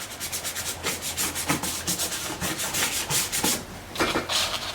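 A brush or pad is rubbed briskly over a textured surface, producing continuous close, fairly loud rhythmic scrubbing strokes with no voices.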